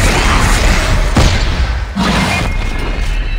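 A rocket launcher blasts in Dead Space 3, a loud close boom with a heavy thud, followed by a second crashing impact and a rumbling wash of noise, no voices.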